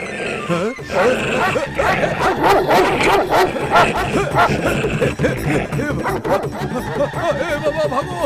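A dog barks and yips repeatedly and excitedly, close and loud, amid a busy scene with people talking and shouting over it.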